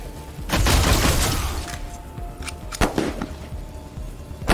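Suppressing gunfire in the video game Wasteland 3: a loud burst of rapid shots at the start, then a few sharp separate cracks and booms, with faint game sounds between.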